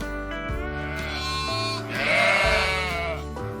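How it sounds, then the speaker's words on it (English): A farm sheep bleats once with a wavering, drawn-out call in the middle, set against continuous cheerful backing music. "The sheep says baa."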